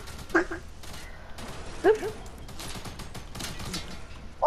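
Fortnite Battle Royale gunfire heard as a few sharp, separated shots and bursts in a busy game mix, mid-distance, with voices talking in between.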